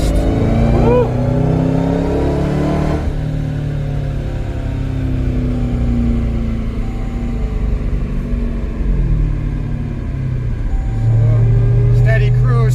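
A tuned car on ethanol flex fuel accelerates hard under rising turbo boost, its engine a loud, continuous close-up roar that climbs and swells toward the end, heard from inside the cabin while people talk.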